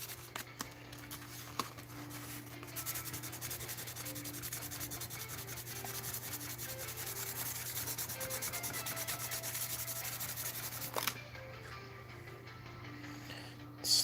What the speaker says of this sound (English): Slowly try to scuff it out.